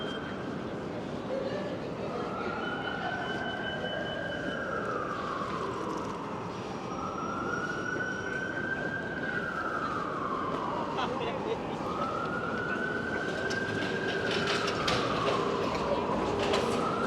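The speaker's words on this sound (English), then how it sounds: "Oh, that one's the sound of a fire truck." A fire truck siren rises and falls in long, slow sweeps over steady traffic rumble in downtown Vancouver, loud and fairly close, repeating about three times.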